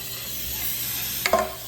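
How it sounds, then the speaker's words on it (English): Cooking spray from an aerosol can coating a cake pan, a brief close hissing burst near the end after a quiet lead-in. "you're gonna take your cake pan and then you're gonna spray it"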